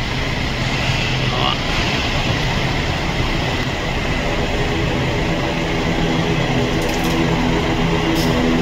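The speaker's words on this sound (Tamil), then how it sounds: "இண்டிகோ ஃப்ளைட் ஒன்று டிபார்ச்சர் ஆகுது." An IndiGo airplane departing, heard as a loud, steady broadband engine roar that holds throughout with no break.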